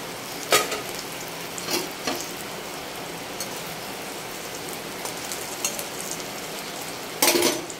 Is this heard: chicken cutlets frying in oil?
yes